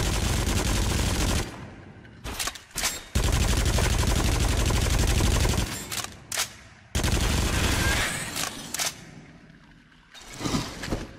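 Dense, loud bursts of rapid gunfire come from the PS4 VR shooter Until Dawn: Rush of Blood. Long sustained volleys are broken by brief pauses, and short isolated shots are heard between them.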